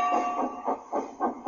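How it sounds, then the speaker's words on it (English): A steam engine pushes trucks with heavy, rhythmic puffing and slipping wheels, the chuffs coming in quick regular bursts close by over a faint steady whistle-like tone. "With much puffing and wheel slip, Toby pushed Mavis and the trucks back."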